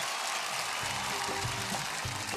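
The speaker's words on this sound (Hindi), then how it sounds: "अनन्या के लिए तालियां।" A studio audience applauds contestant Ananya in a dense, even wash of clapping that holds steady throughout, with soft musical notes beneath it.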